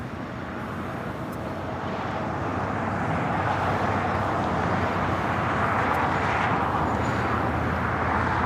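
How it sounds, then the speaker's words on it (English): A large airliner, such as an A380, takes off from the south side at LAX, heard as a broad, steady jet roar that swells slightly and stays heavy and distant for the whole stretch, with no talk. "we still have all these A380s still taking off here on the south side"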